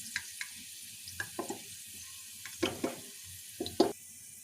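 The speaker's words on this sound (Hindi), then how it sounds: "ये देखिए, ऑनियंस ऑलमोस्ट फ्राई हो चुके हैं" Onions fry in a pan for Kashmiri monge haak, a kohlrabi and mutton dish, giving a faint, low sizzle broken by a few sharp clinks and stirring scrapes close by.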